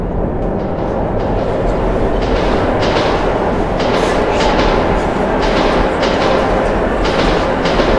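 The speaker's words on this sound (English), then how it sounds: "Phantom train." A phantom train roars past in the tunnels of the video game Metro 2033 Redux, a dense, loud, continuous rumble with rattling clatter throughout, no speech.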